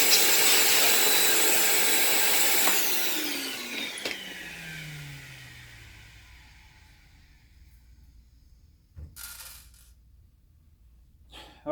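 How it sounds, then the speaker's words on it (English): A vacuum cleaner sucks up broken glass from a damaged LCD TV with a loud, steady roar that soon winds down and fades, followed by a few light clinks and knocks. "I'm gonna get a vacuum cleaner because there's a lot of glass in there."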